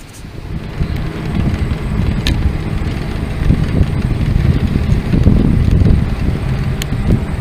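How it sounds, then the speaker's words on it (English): Strong wind buffeting a microphone while cycling on a long road ride, a continuous loud low roar that swells and gusts throughout without letup. "The wind is definitely not in my favor for the last 40 kilometers"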